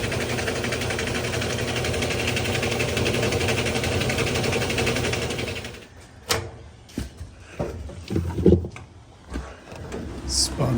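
A GE top-load washer with a worn gearcase runs a loud, fast spin cycle: a steady whirring drone that stops about halfway, followed by clunks, rattles and handling noises as the drum slows.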